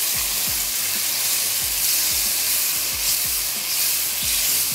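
Gosht (meat) frying in a pot for chana daal gosht, giving a steady close sizzle with crackling pops and spatters throughout, no voices.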